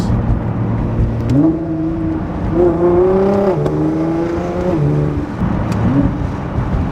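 A car engine revs in rising, harmonic-rich surges as the driver downshifts, with the pitch climbing sharply twice before settling. It is loud and close, with no talk.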